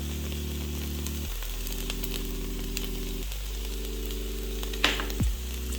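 Garlic cloves sizzling and frying in a hot pan while cooking with beef broth to follow, a steady close hiss with a brief stir or clatter near the end.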